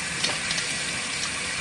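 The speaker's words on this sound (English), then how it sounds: "I'll put a little cold water in" Water pours steadily into an RV washing machine, a close continuous gushing hiss with small splashes and no talking.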